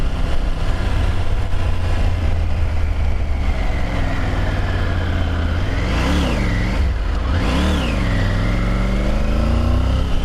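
A Triumph Tiger Rally Pro 900 motorcycle on the move, its engine droning loud and steady up close, then rising and falling through two distinct revs near the middle over constant wind rush.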